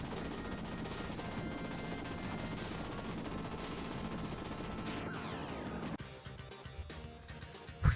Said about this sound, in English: Luckily, I have the machine gun rocket launcher here.